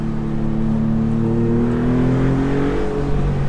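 A Maserati MC20 Cielo open-top supercar engine hums loud and close, its pitch rising slowly in a smooth, steady acceleration on a sunny road, with no talking.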